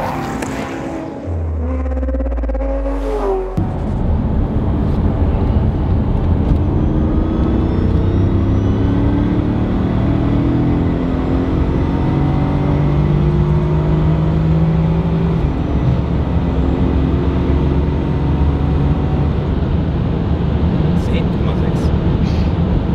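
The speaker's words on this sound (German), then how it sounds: "wir fahren das Auto jetzt kurz warm. Und dann begeben wir uns auf die Autobahn" A BMW M5 Touring drives onto the autobahn after a short warm-up, its engine droning loudly and steadily with rising and falling tones as it gathers speed, heard from inside the car.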